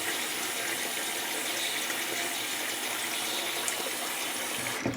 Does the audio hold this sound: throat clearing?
no